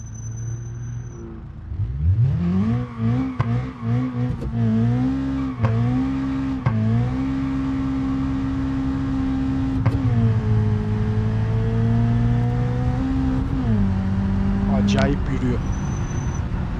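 A turbocharged Lada 2101 in BeamNG Drive revs hard on a dual carriageway with traffic, climbing toward 8000 rpm. The engine note rises and drops through several gear changes, then holds a loud, sustained high-rev drone.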